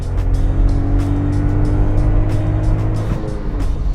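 A VW Polo TSI engine drones loudly from inside the car as it accelerates, a steady engine hum with rising pitch and a brief shift near the end.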